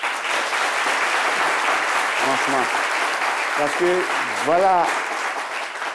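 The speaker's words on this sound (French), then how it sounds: "je demande d'applaudir tous les présidents des clubs" A studio audience claps steadily for the football club presidents, the applause loud and sustained throughout, with a voice speaking briefly over it.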